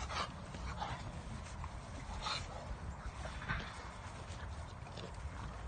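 Two dogs, a small chocolate male and a brindle male, meet for the first time in a shelter exercise area, panting steadily and close up with soft breathy huffs and faint shuffling throughout.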